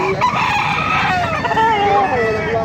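An 11-month-old SBR gamefowl rooster crows loudly and close by at a market in Baliuag, its drawn-out call filling the clip with a rising then wavering tone.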